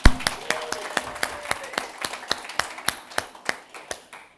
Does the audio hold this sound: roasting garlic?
no